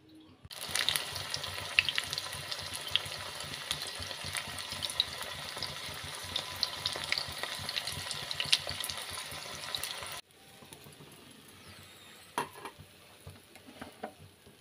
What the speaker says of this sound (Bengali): আর এইভাবে মাখিয়ে তেল গরম হলে তেলে দিচ্ছি